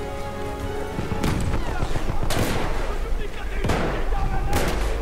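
Battlefield 1 gunfire in a battle scene, with repeated loud explosive bursts and crackling shots over constant rumbling war noise.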